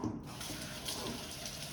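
Tap water running steadily while a dishwasher filter from an ASKO dishwasher is rinsed in a sink, a continuous close splashing hiss with no pauses.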